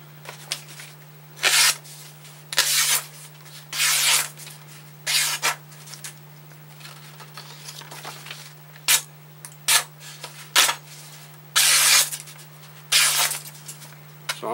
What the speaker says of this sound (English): So I'm going to buff it just a little bit more, strop it just a little bit more on that round there.